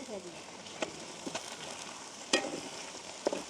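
Prawns frying in oil in a pan, a soft steady sizzle punctuated by a few crackling pops and stirring clicks, close but fairly quiet.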